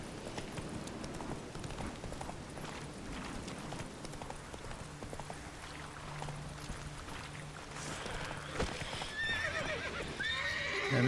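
Roach, Geralt's horse in The Witcher 3: Wild Hunt, whinnies over steady clip-clopping hooves, with rising rustle and clatter near the end and no talk.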